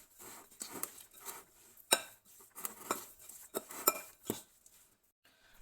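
A spoon scrapes and clinks against a bowl in uneven strokes as batter with sugar is mixed, close by with occasional sharper taps.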